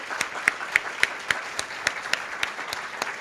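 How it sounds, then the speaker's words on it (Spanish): Applause from an audience at a food policy congress, with distinct claps coming in a steady, fairly sparse rhythm, as if a small crowd were clapping together. "un fuerte aplauso para todos ustedes"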